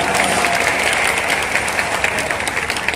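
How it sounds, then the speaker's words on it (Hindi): An audience at an all-India Hindi poetry gathering (kavi sammelan) in Guna, Madhya Pradesh applauds in a dense, continuous wash of clapping, loud and sustained throughout without a break. "किसके समर्थन में तालियां बजा रहे हैं"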